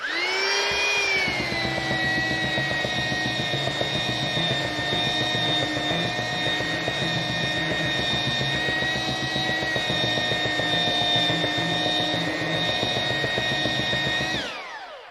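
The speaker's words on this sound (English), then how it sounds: "I keep the belt sander in constant motion" A belt sander flattening a glued-up wood panel whines steadily and loudly for the whole stretch, a constant high mechanical drone with a buzzing motor underneath, cutting off abruptly at the end.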